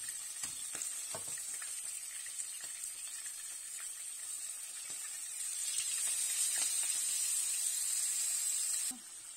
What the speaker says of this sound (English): Now just fry it at a golden brown and not too long to make a juicy fish